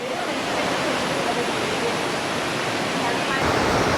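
A waterfall in Eravikulam National Park, the Lakkam falls, pours down in a steady, loud, dense roar of falling water that fills the whole clip without pause.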